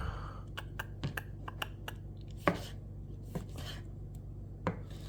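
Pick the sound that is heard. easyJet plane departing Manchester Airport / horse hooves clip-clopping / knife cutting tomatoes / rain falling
knife cutting tomatoes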